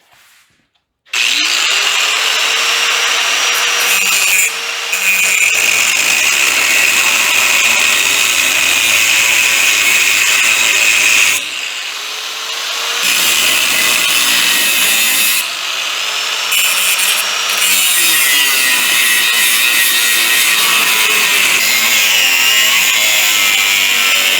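A grinder cuts a part loose on a 1940 Chevy coupe front clip with a loud, harsh, sustained grind that dips briefly a few times before carrying on.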